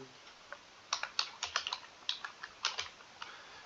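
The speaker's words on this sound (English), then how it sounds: "press F1 to bring the command palette and type Azure Functions" Keys clatter on a computer keyboard in quick irregular bursts, close and fairly quiet, with short pauses between clusters while entering a command into a code editor.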